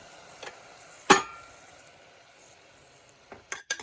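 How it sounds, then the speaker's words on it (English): A spoon clanks once against a pot of boiling sugar syrup being stirred for boba milk tea, over a faint low simmer, followed by a few quick scraping knocks near the end. "I'm going to keep stirring."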